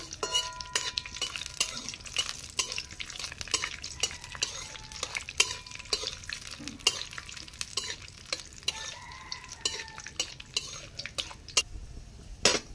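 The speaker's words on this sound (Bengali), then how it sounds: "এই যে কাজুটা এনেছি এইটা ভেজে নেবো কড়াইয়ের মধ্যে" Cashews fry in a wok with cinnamon and cardamom, stirred constantly with a metal spoon; busy clinks and scrapes against the pan repeat over a bright continuous sizzle, close and fairly loud throughout.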